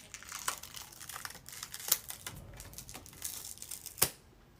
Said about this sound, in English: I just rip everything off.